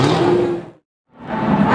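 A 700-horsepower Hennessy exotic supercar launches at a Gumball rally event, a loud engine roar and whoosh cutting out abruptly, a brief silence, then surging back as the car accelerates past nearby.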